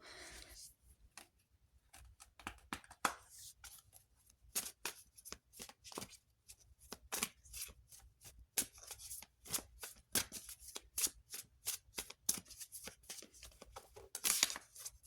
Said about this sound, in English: And so I'll go ahead and start pulling some tarot.